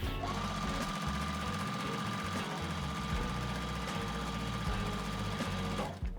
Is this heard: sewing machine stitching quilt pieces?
yes